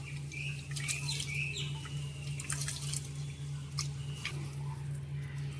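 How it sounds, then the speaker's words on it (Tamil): Varagu millet rice is rinsed in water by hand, with splashing, swishing and dripping sounds over a steady low hum, nearby and fairly quiet, without any talking. "இந்த மாதிரி நல்லா கழுவி வச்சுக்குவோம்."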